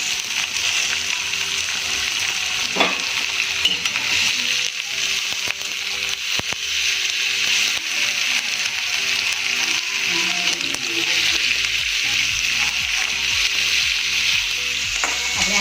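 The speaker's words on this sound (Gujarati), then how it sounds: "હાઈ ફ્લેમ ઉપર જ ફ્રાય કરીશું, જેથી કરીને આમાં રહેલું પાણી બધું તેલની સાથે બળી જાય." Chopped tomatoes fry in oil over a high flame, giving a loud, continuous sizzle with occasional scraping and stirring knocks from a spoon in the pan.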